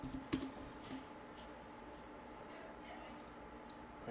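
Someone typing on a computer keyboard in a quiet room, a short burst of faint key clicks near the start followed by a few sparse taps, soft and close.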